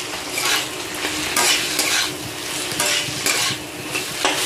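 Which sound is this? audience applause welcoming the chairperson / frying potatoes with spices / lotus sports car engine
frying potatoes with spices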